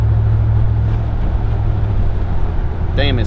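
A 2019 Ram Rebel 1500 pickup with a Carven cat-back exhaust holds steady throttle, giving a continuous low, even drone up close, with a brief voice-like sound at the very end.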